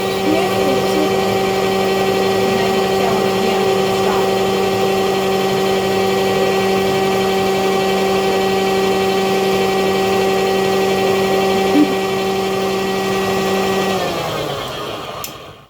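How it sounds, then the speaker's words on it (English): Electric mixer beating cream cheese, peanut butter and salt, a loud steady motor whine with a constant pitch and a faint scraping tick, winding down at the end. "cream cheese and peanut butter and salt, we take the mixer"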